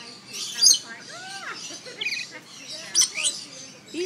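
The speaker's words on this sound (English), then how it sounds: "These are the prettiest parrots." Pet parrots chirp and tweet in bright, quick bursts, with several sharp calls close by and a brief high squawk, while people talk nearby.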